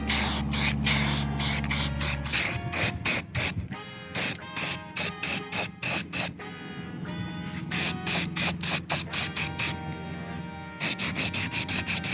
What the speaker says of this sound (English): Then we went on to prepping all the fiberglass parts that I sprayed in satin black.